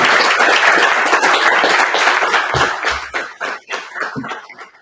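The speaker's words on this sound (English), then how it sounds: "give a round of applause for" An audience at a business automation workshop gives a round of applause, dense and close at first, then thinning into scattered claps as it dies away.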